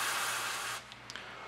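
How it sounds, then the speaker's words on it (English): An aerosol can sprays onto the high-temperature switch inside a MARSENERGY 12V 100Ah LiFePO4 battery, a loud close hiss lasting under a second before it cuts off, followed by a few small clicks. "What I will do is now spraying onto the switch, which is just a high temperature switch"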